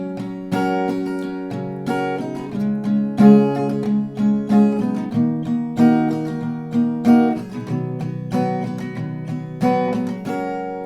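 Acoustic guitar chords strummed in a steady rhythm, bright and close, with repeated down-strokes and no voice.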